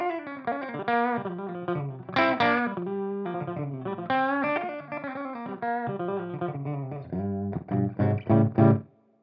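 An Ibanez S Series electric guitar played through effects units, heavy with distortion and light reverb, picks out a melodic riff of sustained notes and bends, ending in a few loud chugging chords; no talking.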